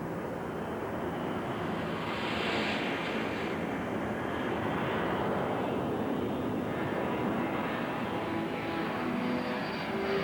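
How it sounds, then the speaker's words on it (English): A C-141 military transport jet lifting off from Thule Air Force Base, a steady broad roar that swells around the third second and holds loud and sustained, with no voices. "A C-141 lifts off from Thule Air Force Base."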